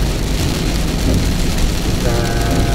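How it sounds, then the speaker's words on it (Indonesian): Heavy rain drumming on a car during a drive near Cibubur toll exit, a dense, loud, continuous wash of noise heard from inside the vehicle. "Hujannya cukup lumayan deras"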